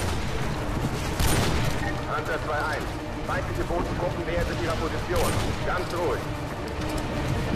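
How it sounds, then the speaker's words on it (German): Gunfire in the video game Call of Duty Modern Warfare 2 crackles in rapid bursts and single shots, mixed with game effects, while someone talks over it. "Ich knall sie einfach mal ab, was soll's."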